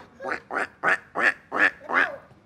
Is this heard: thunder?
no